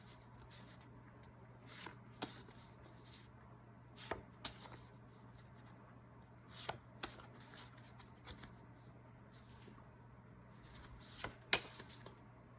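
Paper note cards are handled up close, giving quiet rustles, shuffles and sharp little taps at irregular intervals over a faint steady hum.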